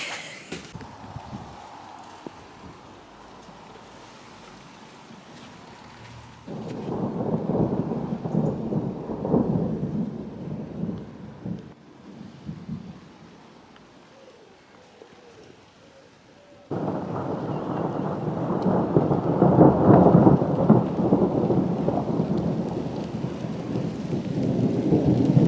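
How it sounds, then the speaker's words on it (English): Thunderstorm over an English cottage, with rolling rumbles of thunder and bursts of heavy rain that come and go, swelling loud in two long stretches between quieter lulls. "I'm just going to enjoy this crazy thunderstorm that we're having right now"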